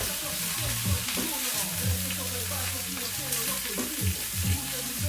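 Vegetables sauté in olive oil with a loud, steady sizzle up close, broken by stirring and tossing sounds and no voices.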